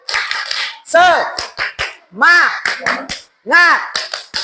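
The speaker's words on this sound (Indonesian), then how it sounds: "Tepuk semangat." Children at a school lesson chant in unison during the rhythmic tepuk semangat routine, with several sharp hand claps punctuating three loud drawn-out vocal bursts, close and energetic.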